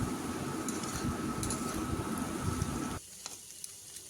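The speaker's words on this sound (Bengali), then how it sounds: "এভাবে নেড়ে ভালো করে মাছের মাথা ও তেলের সঙ্গে আলুগুলো মিশিয়ে নিতে হবে" Potatoes and a fish head are stirred in frying oil, giving a soft, steady sizzle with light scraping that drops away after a few seconds to quieter scattered taps, with no voices.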